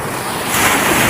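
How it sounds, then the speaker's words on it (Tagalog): Big ocean waves breaking right at the shoreline, a loud, steady wash of surf that swells toward the end, with wind rushing over the microphone. "Malalaki yung alon, guys, pero pumuputok dito na sa mismong pangpang"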